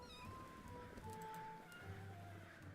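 Cats meowing in the village-building game Clan Folk, several drawn-out mews and a caterwauling call over a low ambient game bed, fairly faint.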